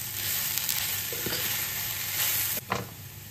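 Dal being stirred in a frying pan, a constant close sizzle with a few scraping spoon strokes and one sharp knock against the pan near the end, no talking.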